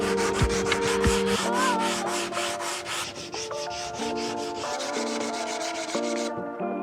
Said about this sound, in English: I'm going to sand all these shoes out